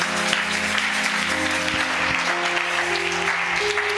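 A church congregation applauds in a sustained, loud wash of clapping, with a sustained musical tone audible under the applause.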